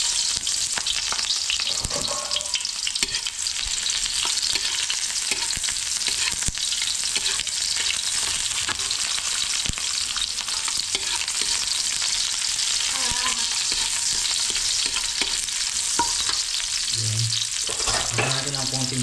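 Garlic and onion sauté in a heated pan, giving a steady loud sizzle and crackle close by, broken by occasional scraping stirs and clinks of a utensil.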